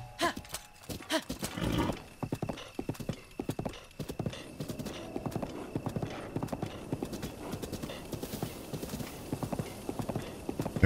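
Rhythmic hoofbeats of a horse galloping in The Legend of Zelda: Breath of the Wild, steady and close, with a brief whinny-like burst near the start.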